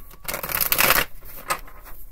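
A deck of tarot cards being shuffled up close, a loud riffling flutter that swells and fades in a quick burst, followed by a few softer card slaps and rustles.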